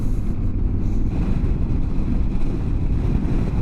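Strong wind sweeps across an open Patagonian border crossing, a loud, continuous low roar buffeting the microphone with no voices.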